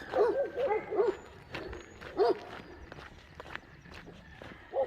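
Dogs bark a few times in quick bursts at a distance along a road, mixed with footsteps and outdoor background noise.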